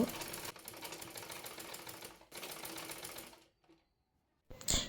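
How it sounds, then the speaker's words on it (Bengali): A sewing machine stitches elastic onto a palazzo salwar in two fast, steady runs of close mechanical clatter, then a short pause and a brief final burst. "এবার রাবারটি সেলাই করে নেব"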